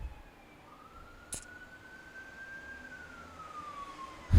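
A faint ambulance siren wails in the distance, its single drawn-out tone rising and falling slowly over a low background hum, with a brief click midway.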